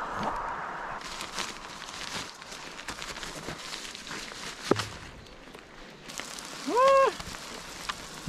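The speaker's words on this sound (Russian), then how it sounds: "Дождь." Rain falling steadily during a cycling race stage in Pavlovsky Posad, a soft continuous patter with scattered drop hits, fairly close, with a brief whistle-like tone near the end.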